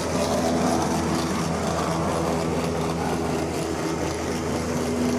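A steady mechanical whir from a running model train engine in a railway model room, continuous and moderately loud with no talk over it.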